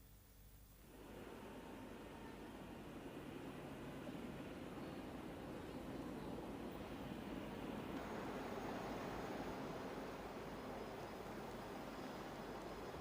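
A helicopter carrying Pope John Paul II arrives under the Cinquantenaire arcades in Brussels, its engine and rotor wash a loud, steady roaring rumble that swells in and holds throughout.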